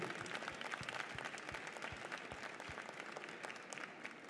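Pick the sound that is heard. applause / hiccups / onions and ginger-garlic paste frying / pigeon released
applause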